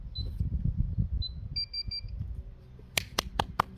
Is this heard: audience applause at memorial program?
no